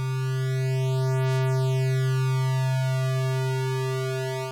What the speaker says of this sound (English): allows the oscillators to slowly, randomly drift in and out of tune with one another